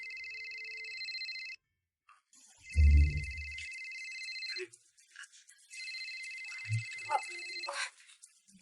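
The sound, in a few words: telephone ringing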